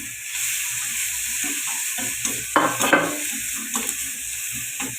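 Spice paste with chilli, turmeric and salt sizzles in a pan for an egg curry, a close, steady frying hiss with a louder burst of spattering midway and the scrape of stirring.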